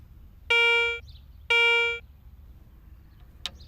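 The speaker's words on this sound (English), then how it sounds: "listen to the sounds made by various common objects as they are brought across your search coil." A Garrett Ace 250 metal detector gives two identical half-second tones as a coin passes over its search coil, clear and steady against quiet background, followed by a brief faint click.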